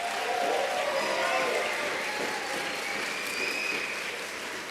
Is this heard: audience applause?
yes